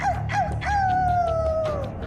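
A woman's high, whiny voice yips and then draws out a long wavering howl, imitating a dog's bark and whimper.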